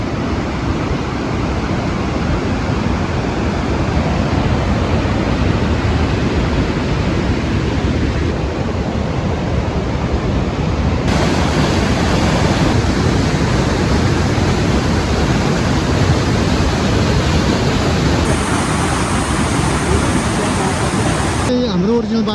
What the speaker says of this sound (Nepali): हामी चाहिँ अहिले टक्क लाङटाङको खोलाको एकदमै नजिक आएको छौँ साइडमा